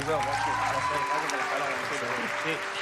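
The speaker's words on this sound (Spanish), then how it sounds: "Aplauso." Audience applause on a televised singing talent show, moderately loud and continuous, with a person talking over the clapping.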